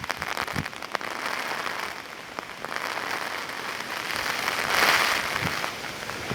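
Rain falling steadily at an old castle in Ireland, a dense close hiss of drops with scattered sharper splashes and a brief swell near the end, no voices.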